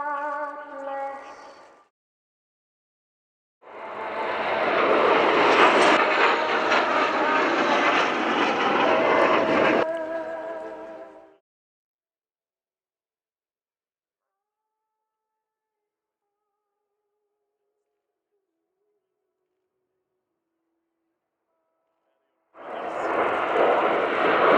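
Thunderbirds formation jets making a low pass at the RIAT Fairford airshow, a loud roaring rush that swells for several seconds and fades, with a shorter burst before and another jet roar rising at the end.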